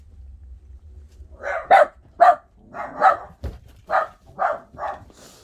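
A dog barks repeatedly at night, about eight loud, close woofs in an uneven rhythm with short gaps, alert and agitated, over a quiet low background.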